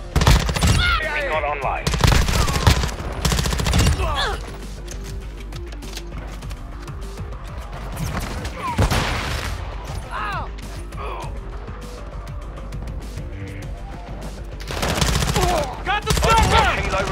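Heavy automatic gunfire from the video game Modern Warfare 2 comes in loud, rapid bursts at the start, middle and end, mixed with mechanical clanks and game voice callouts in between.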